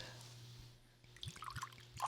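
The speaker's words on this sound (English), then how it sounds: "And we get the first pour." Little Book Chapter 7 whiskey pours into a glass in a short, quiet trickle of liquid, with faint drips and splashes ending in a slightly louder gurgle; no talking.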